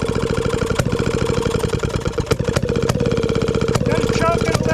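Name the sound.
small engine being started with a starter and running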